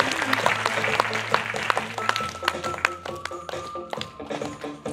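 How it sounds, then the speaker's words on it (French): Audience clapping at a children's festival in Biarritz, individual claps distinct over a held musical tone, with a voice over the applause. "On applaudit très fort"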